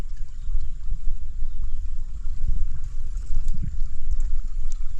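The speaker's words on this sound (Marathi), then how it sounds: "हे जमिनीच्या खालून पाणी वाहत आहे बघा" A stream of water flows out from under the ground near the Napne waterfall in Sindhudurg, a steady low rushing rumble, close and continuous, with no voices.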